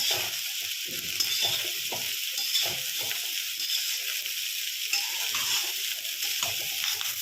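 Vegetable fried rice is stir-fried over a full flame, with a steady bright sizzle close by and a quick rhythm of spatula scrapes and tosses in the pan, with no voices.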